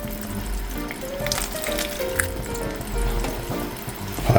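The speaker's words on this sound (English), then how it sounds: "And add a touch more water to this." Water poured into a sukiyaki pan with steak, shimeji mushrooms and shirataki, setting off a steady close sizzle and bubbling hiss with small pops, no voices.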